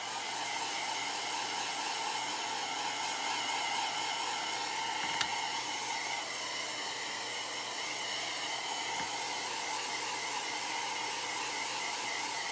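A hair dryer blows steadily on craft mittens, a constant close whooshing hiss with only tiny clicks and no break.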